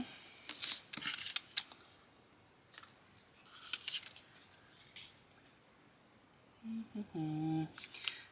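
Scissors trim paper scraps for a handmade card in several short, quiet snips spread across the clip, with a brief tonal rustle near the end.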